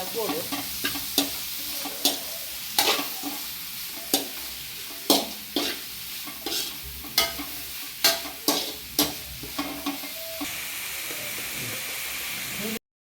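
Tajank leafy greens are stir-fried in a pan, giving a continuous loud sizzle with regular sharp scraping strokes of a spatula roughly every half second, while a voice speaks faintly underneath.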